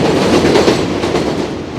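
A train rolls past in Bushwick, New York City, a loud, steady, close rumble with rhythmic clatter filling the whole moment, no voices.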